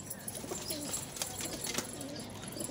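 Pigeons cooing softly at close range, a few low, rounded coos rising out of a steady background hiss with faint chirps.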